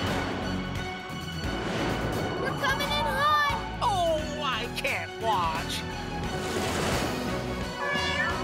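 A cartoon cat meows several times in rising, wavering cries over busy background music and voices.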